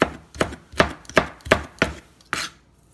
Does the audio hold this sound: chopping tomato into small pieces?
yes